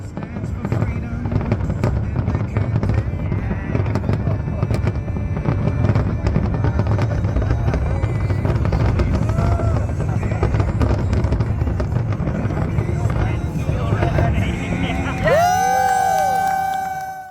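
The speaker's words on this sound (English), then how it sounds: "we ran out to the bridge to watch the fireworks go off for the rest of the night" Fireworks boom and crackle continuously over a murmuring crowd watching from a bridge, dense overlapping blasts, then a bright whistling tone rises near the end.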